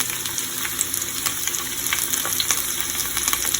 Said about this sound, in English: I turned my stove up high because I want to cook this so that I can brown the onions